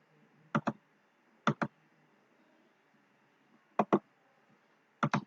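Four pairs of crisp mouse clicks on a demo web page link, each a quick double tick separated by quiet gaps, close and dry against a faint background hum.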